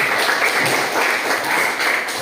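A group claps steadily in a dense burst of applause, loud and close, with no pauses.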